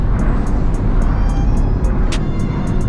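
A Nissan 350Z with a full HKS exhaust pulls hard from inside the car, a loud, close, continuous engine drone, with sharp ticking clicks repeating evenly through it.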